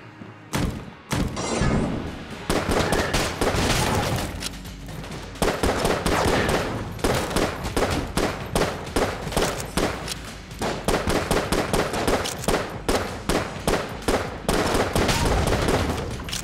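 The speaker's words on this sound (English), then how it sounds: "Oh, there's an explosion." Explosions and rapid gunfire from the video game Enter the Gungeon, dense bursts of loud shots and blasts repeating almost continuously throughout with brief gaps, no talking.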